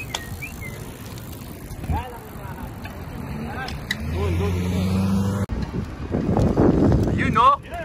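Wind buffets the microphone during a group bicycle ride through San Jose and Milpitas, a constant roaring rush with gusts and passing road noise, while riders shout and talk over it.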